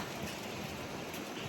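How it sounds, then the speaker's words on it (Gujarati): Soft, continuous hiss of rain falling, even and distant, with no voices. "વરસાદ ચાલુ થઈ ગયો"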